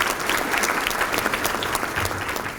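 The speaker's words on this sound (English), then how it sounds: "Give our veterans another round of applause." An inauguration crowd gives veterans another round of applause, a dense, even wash of clapping from many hands that holds steady throughout without fading.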